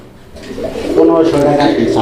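A pair of black Mundian pigeons for sale coo nearby, and the low cooing swells midway while a person talks over it.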